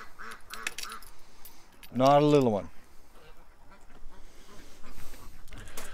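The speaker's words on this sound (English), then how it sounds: "Oh, ducks." Ducks quacking nearby, with one loud, honking call standing out over a low outdoor background, while someone speaks briefly.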